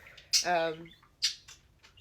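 Pet bird at home lets out a sharp, loud squawking call lasting about half a second, then a few short chirps and rustles at close range in a quiet room.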